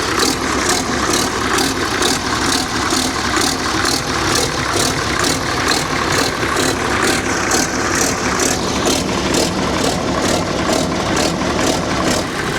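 A classic Case excavator's diesel engine runs steadily nearby with a rhythmic, pulsing clatter and a low rumble, plus some rattling, with no voices.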